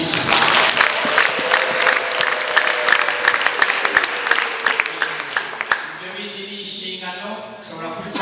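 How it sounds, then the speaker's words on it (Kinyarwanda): A church congregation breaking into sustained applause after a sermon, dense close clapping for several seconds that thins out toward the end as a voice comes in. "Ababyumva mu Imana amashyi"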